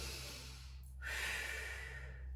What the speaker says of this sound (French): ce sera une inspiration et une expiration par la bouche, comme ça